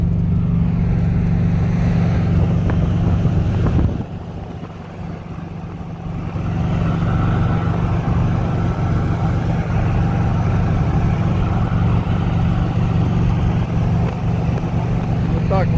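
ZAZ-965 car engine droning at full throttle while driving, loud and steady inside the cabin with one brief drop in level, and someone talking over it throughout.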